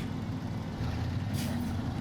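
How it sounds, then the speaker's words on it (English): An off-road truck engine in the SnowRunner video game rumbles in a steady, loud low drone with a brief hiss of air partway through. "this truck handles these roads impressively well."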